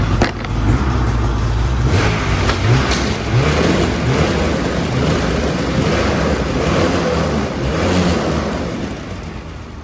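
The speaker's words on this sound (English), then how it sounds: "we're gonna give it some throttle. We're gonna let the track do approximately 5 revolutions" An 850 Khaos 165 snowmobile engine revs loudly and steadily for the whole stretch during a pre-ride service, its track spinning freely, with a dense roar and no talking.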